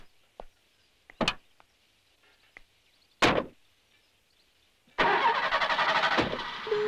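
A car door thumps shut twice amid quiet, then the engine cranks and catches into a loud, steady idle that continues to the end, with no speech.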